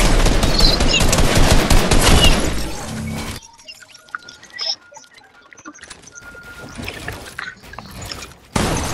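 Dense, loud gunfire in a Fortnite match, sustained rapid shots with shattering debris, then sparser pops and clicks before another burst at the end.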